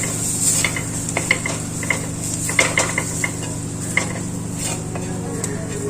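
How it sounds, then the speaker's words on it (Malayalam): Turmeric and coriander powder are stirred in a hot pan over a steady low sizzle, with a spoon scraping and tapping the pan in irregular close strokes and no talking. "2 ടീസ്പൂൺ മല്ലിപ്പൊടി, ഇളക്കി കൊടുത്ത് ആ പൊടിയുടെ പച്ചമണമൊക്കെ ഒന്ന് മാറണം"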